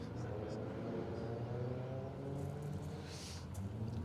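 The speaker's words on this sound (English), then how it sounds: "Maz's Fiesta sounds as sweet as ever." A Ford Fiesta rally car runs its engine on a circuit rally stage. A continuous, moderately loud engine drone shifts pitch as the car accelerates, with commentators talking over it.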